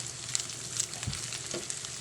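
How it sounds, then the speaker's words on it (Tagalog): Shrimp paste (bagoong) with brown sugar sautés in a pan, giving a soft, steady sizzle with light stirring scrapes, fairly quiet and without speech. "Gigisa lang natin siya guys."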